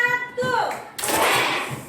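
A classroom of children does a clapping cheer. An adult voice speaks first, then a loud burst of many small hands clapping together follows and tapers off.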